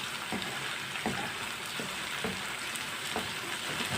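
Okra (bhindi) fries in a pan after about four minutes of cooking, already lightly browned, giving a continuous close sizzle with soft, regular stirring scrapes.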